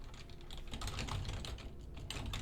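Fingers type on a computer keyboard, a steady rapid run of soft clicking keys at close range, faint and even throughout with no talk.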